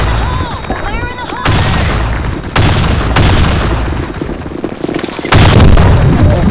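Several heavy booming grenade blasts in the online shooter Blackshot, each a sudden loud burst spaced a second or two apart, with shouted voice lines and scattered gunfire around them.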